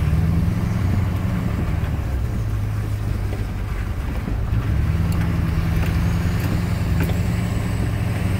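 A vehicle drives along a Montana forest road, giving a steady low engine and road rumble that dips briefly midway before resuming, with faint ticks and taps above it and no talking.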